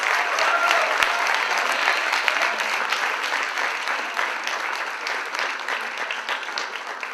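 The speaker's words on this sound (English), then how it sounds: "A big hand of applause." Audience applause for a BSc Part 3 student named Outstanding Student of the Year at a college annual day ceremony, a dense, steady wash of many hands clapping that holds loud and even throughout.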